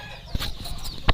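A Rhode Island Red hen, a poultry egg-laying breed, gives a few clucks and calls amid background farmyard noise, with sharp knocks at the start and end and no speech.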